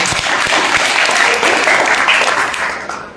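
A school character-building session for junior high students, where a crowd of students gives dense, steady applause that holds loud for about three seconds, then tapers slightly at the end.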